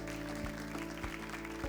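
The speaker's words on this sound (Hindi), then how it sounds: "जोरदार ताली बजा दे वजह सभी लोग" A karaoke competition final audience claps in a brief burst of applause, with a few sharper claps standing out over ongoing background music.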